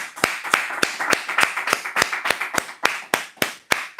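Distinct, evenly spaced claps ring out in a church service, roughly a dozen sharp strikes at a steady rhythm, fairly close, with no talk over them.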